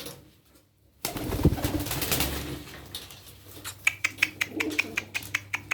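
Çorum Çıplağı pigeons close by, a brief flutter and clatter of movement followed by a run of regular soft coos and wing or foot taps, with no talking.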